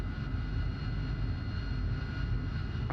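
Steady droning aircraft engine from a flight simulator video game, a continuous low rumble holding level throughout with no talk over it.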